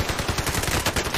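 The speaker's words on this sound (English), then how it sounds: "this freaking Owen Gun just keeps going" An Owen Gun submachine gun firing in Warzone, a loud, rapid, unbroken automatic burst, close and alone.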